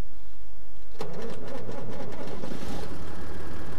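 A John Deere tractor engine in a video game turns over and settles into a loud, steady rumbling hum with a rapid mechanical rattle, close and continuous.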